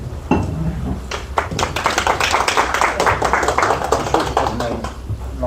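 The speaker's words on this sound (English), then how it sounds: "Give a round of applause to." A live audience claps for a speaker at a talk, a dense burst of hand claps starting abruptly and holding steady for several seconds, close and loud with no voices over it.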